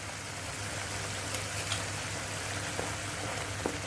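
Methi chicken masala fries in oil with a constant, moderately loud sizzle and occasional small pops and crackles close by.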